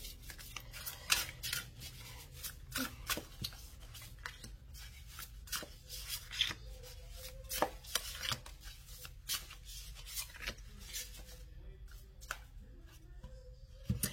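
Tarot cards being shuffled and laid out for a cross spread, a busy stream of close papery rubs, riffles and soft slaps of cards on a surface, with no talking.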